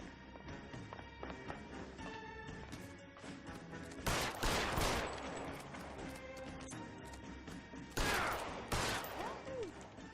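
Gunfire rings out in the video game L.A. Noire, with two bursts of loud, sharp shots about four seconds apart over a busy game soundscape.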